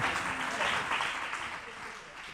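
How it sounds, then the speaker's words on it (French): Audience applause at the close of a French broadcast contest semi-final, a steady dense wash of clapping held at even loudness that fades slightly toward the end. "Sous vos applaudissements."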